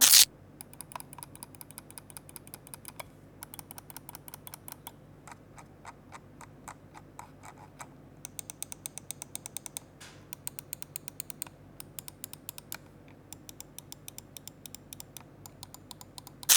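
Buttons of an Epomaker Click wireless gaming mouse click repeatedly up close in quick, uneven bursts, sharp, crisp and tactile, with short pauses between runs and no voices.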